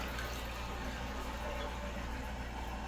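Toto Aquia II dual-flush floor-mount toilet running a 0.9-gallon half flush, with steady rushing water throughout, close and moderately loud, with no voices.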